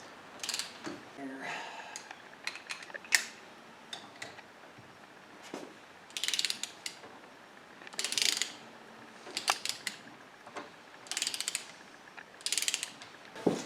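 A ratchet clicks in repeated bursts while engine bolts are run down halfway during a car engine rebuild, with short pauses between sets of quick, close pawl clicks.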